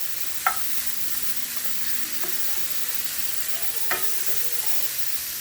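Sausage frying in a hot pan gives a steady, faint sizzle throughout, with two brief clinks of stirring against the pan and no talk over it.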